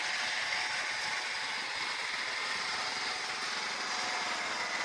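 A rice planting machine with thin wheels drives through a muddy paddy in Japan, its small engine buzzing steadily and fairly loud with a constant high-pitched drone and no talk.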